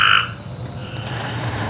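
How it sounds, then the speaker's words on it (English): Tree frog croaking loudly and close in a short burst at the start, then fading into a steady low outdoor hum after rain. "You can hear the tree frog in the background."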